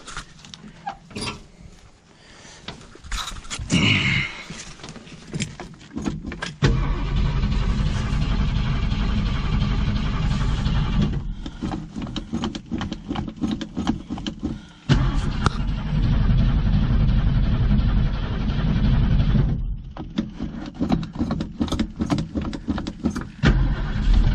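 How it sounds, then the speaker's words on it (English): A 1969 Ford Mustang is cranked after fuel reaches the carburetor, then catches and runs, its engine rumbling loudly with uneven revving and brief cut-outs, and a dog barks now and then. "Let's see if she starts and runs now."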